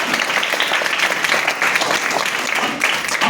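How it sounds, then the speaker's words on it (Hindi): Dense, steady audience applause fills the room throughout as a team gathered in Lajpat Nagar, Delhi claps together, loud and continuous with no break. "बहुत बढ़िया, एक बार ताली बजाओ भाई।"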